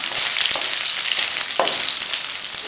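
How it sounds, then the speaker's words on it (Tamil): Omavalli leaves sautéing in a hot pan for an omavalli thokku, a steady bright sizzle with a couple of soft stirring knocks, close and continuous with no voices. "இலைகளை போட்டு நல்லா ஒரு அளவுக்கு வதக்கணும்."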